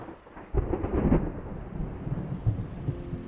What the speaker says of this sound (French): Laissons passer l'orage de la Gordolasque.